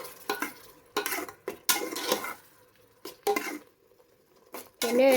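Garlic, ginger and green chili paste cooks in oil in a pan for a mushroom biryani, heard as intermittent bursts of sizzling and scraping as it is stirred, with metal utensil clinks between quieter pauses.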